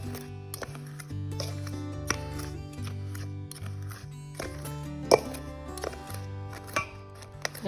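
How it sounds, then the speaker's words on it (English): Two butter knives scrape and cut against each other through butter in a bowl for muffin crumb topping, giving faint irregular clicks and scrapes beneath a steady background tone. "So I've been using 2 butter knives and kind of cutting against each other to cut the butter into smaller pieces."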